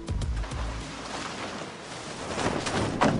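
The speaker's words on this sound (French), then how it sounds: "c'est le son d'un catamaran" Steady rush and slosh of water against a hull, like a catamaran cutting through waves, with wind noise and occasional splashes.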